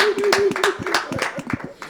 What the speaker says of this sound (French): On va applaudir très fort